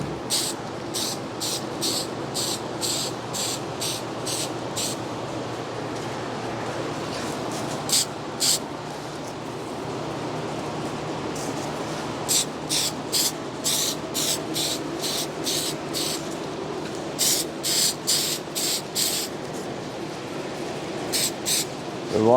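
Short bursts of 3M aerosol spray adhesive hiss close by, a series of quick pulses repeated in clusters with brief pauses between, while replacing a vehicle headliner.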